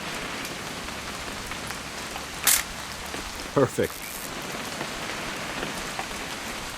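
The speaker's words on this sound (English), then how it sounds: "It's gonna rain the whole weekend, isn't it?" Steady rain falls throughout in What Remains of Edith Finch, a dense hiss of drops on a surface, with a few brief clicks and a short word of speech partway through.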